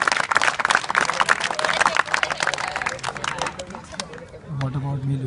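An office crowd at an Arsenal Gap Programme tournament in India gives a round of applause, a loud burst of close clapping that thins out after a few seconds into chatter and a voice.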